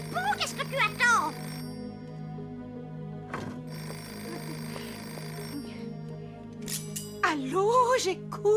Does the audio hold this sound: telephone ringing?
yes